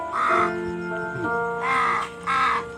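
Pet crows caw outdoors, several harsh calls in a short run with pauses between, moderately near over a quiet background.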